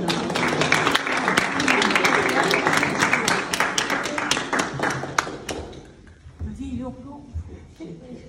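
A festival audience claps warmly to welcome a Kyrgyz singer onto the stage, dense applause for about five seconds that then fades as a voice begins talking over the quieter hall.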